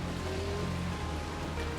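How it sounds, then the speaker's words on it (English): Heavy rain pours down at the Spa-Francorchamps racetrack during the 2019 Total 24 Hours of Spa, a dense, loud, unbroken roar of water. "The rain comes down even harder now"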